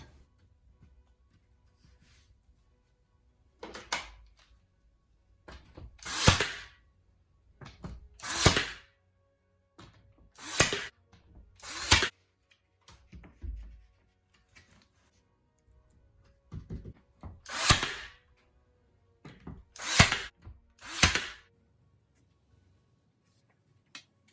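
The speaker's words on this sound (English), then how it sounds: "I will use the nailer, and then I will put screws in" Power tools fixing insulation to a bare garage wall: about ten short, sharp bursts of driving in two clusters with quiet pauses between, close and loud against a silent background.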